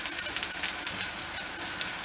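Loud, steady sizzling of eggplant frying over high heat in a hot pan, a dense crackling hiss with no voices.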